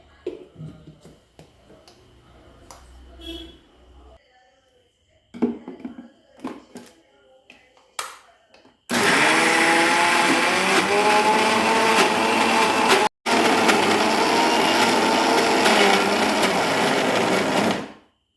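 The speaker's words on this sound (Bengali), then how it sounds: "এবার এটা প্রথমে বেটে নেবো" An electric mixer grinder runs loud and steady, grinding soaked urad dal (black gram) into idli and dosa batter. It follows a stretch of quiet kitchen handling sounds, with one brief stop partway through.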